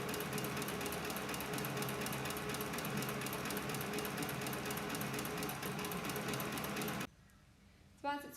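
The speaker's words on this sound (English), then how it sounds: "press the accelerator pedal, and it'll wind the thread onto your bobbin" A Cowboy CB4500 sewing machine winding thread onto its bobbin gives off a steady, close mechanical whir and rapid rattle for about seven seconds, then cuts off, leaving a brief faint clunk.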